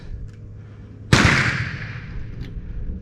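A single sharp, loud report from an Enfield No2 MK1 firing a heavy-crimp reload outdoors, striking after a quiet moment and ringing off into a fading echo.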